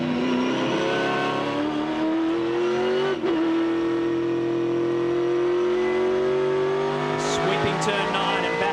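V8 Supercar race cars at the Phillip Island circuit howl through a long engine note that dips under braking and then climbs again under acceleration, loud and close, with commentary running over the top.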